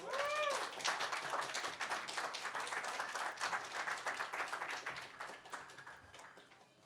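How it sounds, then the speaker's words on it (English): A reading audience applauding, a dense patter of many hands clapping at moderate distance that holds steady for several seconds and then tapers off. "Another round of applause for the board."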